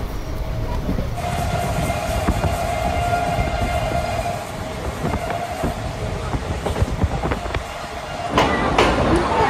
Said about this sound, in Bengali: এখন আমাদের ট্রেন 107 106 এরকম স্পিডে আর কি চলছে